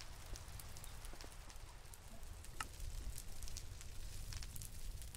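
Steady rain falls in a modded Minecraft world, a dense continuous patter with scattered drop ticks at moderate level, and no talking is heard.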